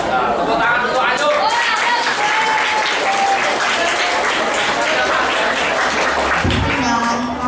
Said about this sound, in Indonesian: Tepuk tangan untuk Ayo